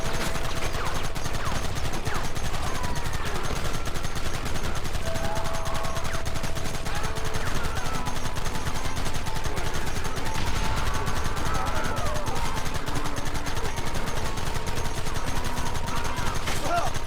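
Dense, sustained gunfire from a Wild West shootout in the video game Red Dead Redemption, with overlapping shots and rapid bursts running the whole way through a steady, busy mix of game sound.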